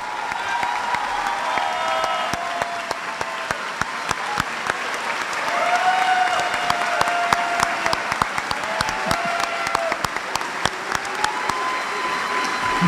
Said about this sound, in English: Please join me in giving him a round of applause and wishing him well